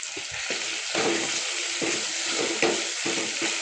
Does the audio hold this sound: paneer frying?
yes